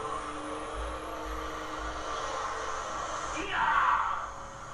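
A diesel truck overtakes on a road, its broad engine rumble swelling and passing close by, with a brief hiss near the end of the pass.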